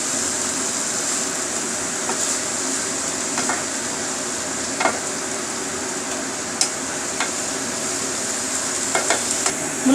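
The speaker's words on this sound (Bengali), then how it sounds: "মূলো শাকটাকে আমি একটুখানি নাড়াচাড়া করে ঢাকা দিয়ে রাখবো" Radish greens sizzle in a hot pan while a utensil stirs them, producing a continuous frying hiss punctuated by scattered sharp scrapes and taps against the metal.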